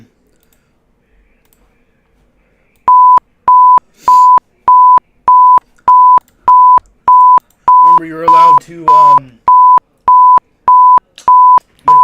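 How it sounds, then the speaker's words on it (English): A steady run of identical loud Emergency Alert System tornado warning beeps, about two per second, starts after a quiet moment; a voice briefly speaks over them midway. "wait for the beeping to stop."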